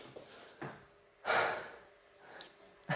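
Heavy breathing during a full-body cardio and stability workout at home: a few close, separate gasping inhales and exhales, with one loud breath in the middle and no talking.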